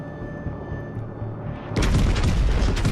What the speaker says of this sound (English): so we have a full salvo on him